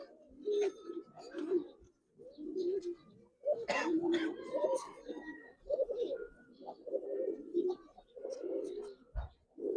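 Several Giribaz pigeons coo at a pigeon farm, repeated throaty rolling calls close by, with faint chirps and a few indistinct background voices.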